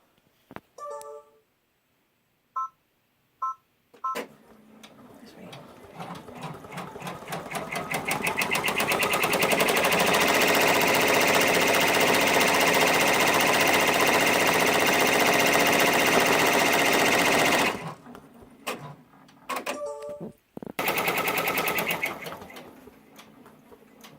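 Embroidery machine stitching a bag held in a fast frame, with a few short clicks first, then a loud, steady, rapid mechanical hum for about nine seconds before it stops and starts again in short bursts.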